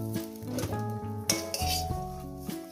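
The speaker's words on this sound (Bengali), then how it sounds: "এই বেগুন ভাজাগুলো আমি উঠিয়ে নেব" Fried brinjal slices lifted out of an oily frying pan: sharp metal clinks and scrapes of a utensil against the pan, several close knocks over a steady tonal background.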